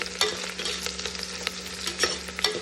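Pork fries and sizzles in a pan while being stirred, a dense continuous close crackle broken by repeated scraping strokes, with no voices.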